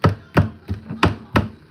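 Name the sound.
knife stabbing raw chicken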